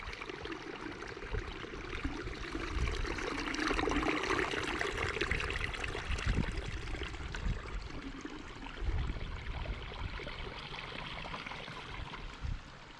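Water runs off a hillside in the Scottish wilderness as a steady, rushing stream trickle, close and continuous with no voices.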